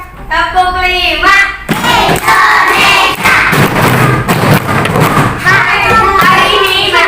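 Schoolchildren finish a counting clap game with a dense burst of many hands clapping at once, thumping and crowd-like, framed by chanted children's voices before and after.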